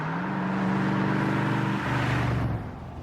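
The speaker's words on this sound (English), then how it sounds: "She purrs like a kitten till the lake pipe roar." A Texas car's engine and exhaust roar loudly through lake pipes, a deep sustained drone that shifts pitch as it revs before easing off near the end, close and with no voices.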